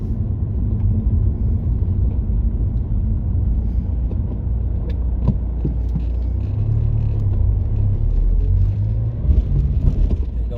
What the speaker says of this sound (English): A bit like this truck now.